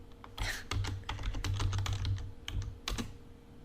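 Rapid keystrokes on a computer keyboard, a quick burst of close, crisp clicks with brief pauses, then a final cluster of taps; no one talks.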